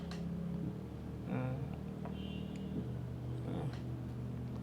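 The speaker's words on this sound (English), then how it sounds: "We just solo the bass. This is what it sounds like." A soloed bass part from a hip-hop beat plays low sustained notes that shift pitch a few times. It is quiet and heard alone, with no voices.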